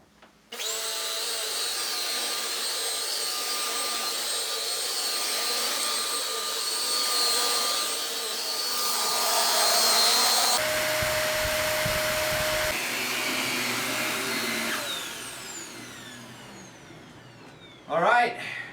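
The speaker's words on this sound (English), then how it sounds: "we're done vacuuming now, and we're going to check how much dirt we picked up here with the Shark Swivel Navigator Deluxe" A Shark Swivel Navigator Deluxe vacuum cleaner runs with a loud, steady motor whine while picking up dirt, the pitch shifting partway through as debris is sucked in, before the motor winds down near the end.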